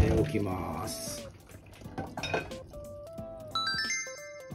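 Hot water is poured off freshly boiled kumquats in a kitchen, with splashing liquid, clinks of a pot or glassware and ringing metallic tones, fairly close, while a voice talks over part of it.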